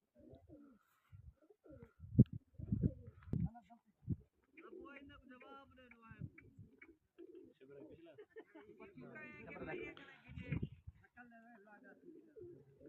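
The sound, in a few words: pigeons cooing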